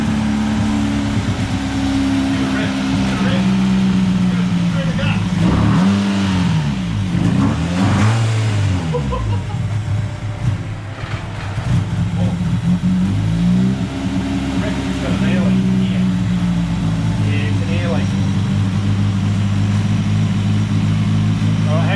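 A Suzuki Swift GTi engine fires up and holds a high, loud idle, swelling through several revving rises and falls at close range while people talk over it.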